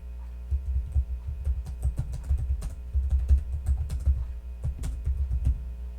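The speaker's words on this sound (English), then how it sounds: "where do I type in my search?" Fingers tap out a search on a computer keyboard in quick, uneven bursts of close, soft keystrokes over a faint steady hum.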